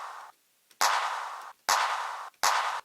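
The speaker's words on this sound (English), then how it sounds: "So then we just put a clap on top of a kick drum." Clap sample layered on a kick drum, heard as three loud, punchy hits spaced under a second apart, each followed by a sustained bright tone that cuts off before the next hit.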